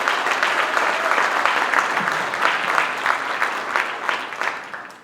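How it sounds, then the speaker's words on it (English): A conference audience claps steadily for about five seconds, a dense, continuous wash of many hands at fairly close range with no speech over it. "How about another round of applause for her?"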